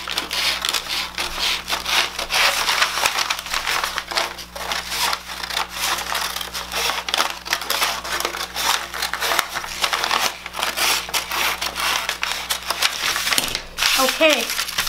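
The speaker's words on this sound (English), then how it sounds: "I'm gonna cut along that center line that I just drew. Just cut all the way and separate the two pieces." Scissors cutting steadily through a paper bodice pattern along a drawn center line, producing continuous close crunching and snipping that separates the sheet into two pieces, with no voices.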